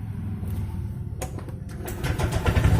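A fuel-injected Honda Vario 125 scooter is cranked by its electric starter, giving a close, loud motor whir that catches into a rising engine rumble in the last second.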